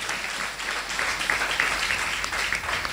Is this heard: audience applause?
yes